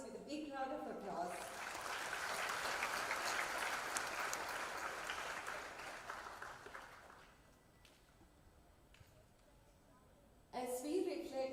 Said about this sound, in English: Alvis with a big round of applause?